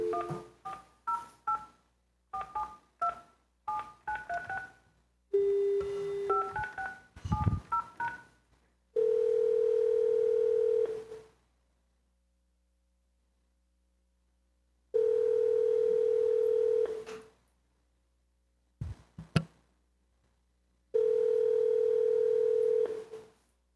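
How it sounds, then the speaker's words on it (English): A telephone call is placed: bursts of DTMF dialing tones, then a long steady ringback tone repeating in evenly spaced pulses separated by silence. "I hear it ringing on your end, but it's not ringing on my end."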